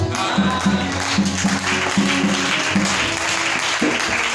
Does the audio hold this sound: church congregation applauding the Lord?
yes